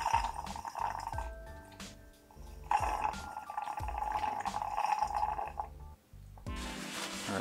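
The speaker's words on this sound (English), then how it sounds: "hopefully I'm able to draw out even more water" Water from the liquid cooling loop of a 3D-printed full-size ATX gaming PC drains into a container, a steady trickling and splashing with a faint rhythmic pulsing underneath.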